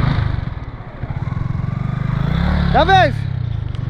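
A Yamaha R15 V4 motorcycle rides along the beach at Cox's Bazar, its low engine drone steady throughout. A brief warbling tone rises near the end, with muffled voices in the background.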